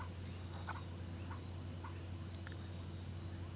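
Crickets chirp outdoors on a quiet evening: a steady, even trill that runs without pause over a low background hum, with no voices.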